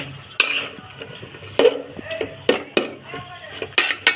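Vegetables with spices being stirred in a cooking pot for a curry of Malabar spinach seeds with fish, giving irregular scraping clinks and knocks of a utensil against the pot, moderately close, with soft background noise.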